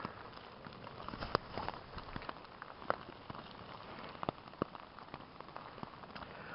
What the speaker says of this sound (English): this rain's not even supposed to stop